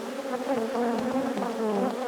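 Dense, continuous buzzing of many honeybees in an opened hive with a brood-and-honey top box, a steady droning hum with wavering pitch, close and fairly loud with no talk.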